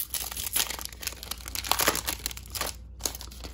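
Foil packs of Optic Chrome trading cards are ripped open close up, a run of crinkling, crumpling bursts and tearing rustles coming in uneven waves, with a brief gap near the end and no talking.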